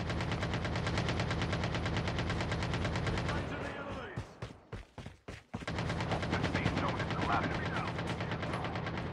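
A modified AK rifle fires in a battle royale video game as rapid, continuous automatic bursts. The fire breaks off briefly into a few separate shots, then resumes just as steadily.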